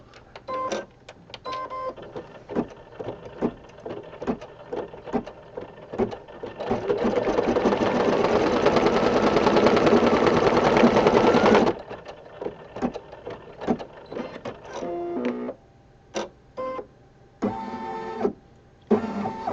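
An embroidery machine stitching a design on fabric starts with intermittent clicks and short stitch bursts, runs a loud continuous whirring stretch, then returns to stop-start ticking and brief runs.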